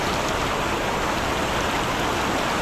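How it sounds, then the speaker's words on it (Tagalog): A strong river current rushes past at a tilapia fishing spot where a net is being cast. It makes a loud, steady wash of white noise with no breaks and no voices. "Lakas ng agos po."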